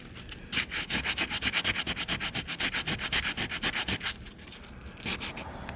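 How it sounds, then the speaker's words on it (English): A car bumper is hand-sanded with 180 grit sandpaper, producing a fast run of loud, close rasping strokes in an even back-and-forth rhythm that stops briefly, then resumes for a few more strokes, with no talk. "what I'll do now is sand this down with some 180 grit"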